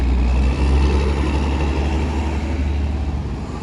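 A very loud, noisy truck rumbles past close by on a North Philadelphia city street, its heavy low engine drone steady and continuous throughout with no talking.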